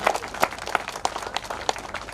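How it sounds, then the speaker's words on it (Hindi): Audience at a Chhath Puja 2024 gathering in Udaipur clapping to welcome a guest, a loose, uneven patter of hands with a few louder claps standing out, steady throughout and fairly close. "भाई साहब के जोरदार तालियों के साथ स्वागत करें।"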